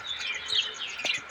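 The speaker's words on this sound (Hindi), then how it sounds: "यहाँ पे 5:15 के आसपास से ये जो चिड़िया हैं" Small birds chirp and tweet at dawn in a riverside village, a steady chorus of bright calls with a few louder nearby notes, no talking.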